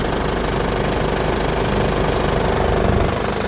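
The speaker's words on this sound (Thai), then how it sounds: "เสียงเครื่องก็โอเค" A used Isuzu Dragon pickup's diesel engine runs steadily at idle, loud and close, with a constant rough clatter and no pauses.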